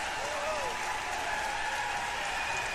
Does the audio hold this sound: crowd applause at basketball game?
yes